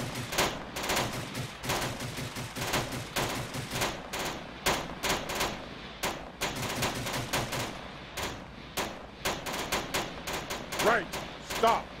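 Rapid gunfire from assault boat guns in Halo Reach comes in repeated sharp bursts and single shots spread across the stretch, with players talking over it.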